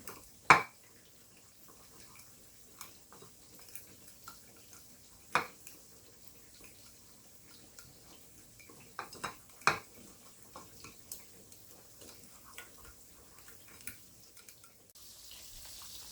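Seasoning for fried ribs being mixed in a bowl: sparse, quiet clinks and taps scattered over a low kitchen background, with no talking.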